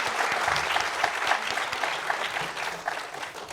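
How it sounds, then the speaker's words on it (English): Sustained applause from a crowd, dense clapping that holds steady throughout without a break. "Please give them a huge round of applause"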